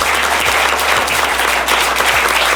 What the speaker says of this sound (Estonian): teeme suure aplausi meie kahele väga põnevale tiimile